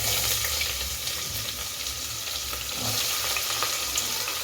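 Sliced onions sizzle steadily in hot oil in a pan, cooking for a vegetable biryani; a continuous close hiss with a slightly uneven crackle throughout and no talking.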